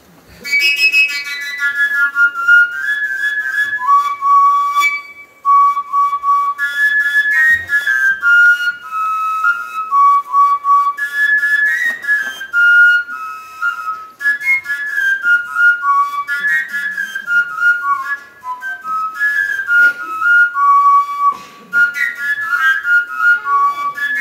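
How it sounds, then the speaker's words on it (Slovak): A Slovak koncovka, a fingerless overtone flute, plays a bright, clear melody of leaping high notes in phrases broken by short breaths, close and loud with no talk. "Tu sa fúka, tu vzniká tón a na konci môžem akurát odkryť alebo zakryť, ale to stačí, aby mohla vzniknúť na tejto koncovke melódia."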